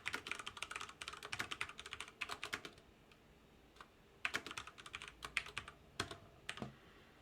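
Code is typed on a computer keyboard in quick, close-up bursts of clicking keystrokes, with a short pause in the middle and no talking.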